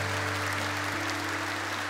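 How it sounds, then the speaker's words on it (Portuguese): Congregation applauding in a church sanctuary during a Catholic Mass, a brief stretch of steady clapping heard under a constant low electrical hum. "Uma salva de palmas."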